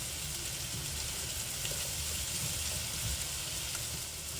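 Shrimp and squash sizzle steadily in a hot skillet, a continuous bright crackle and hiss that stays loud and even throughout with no talking.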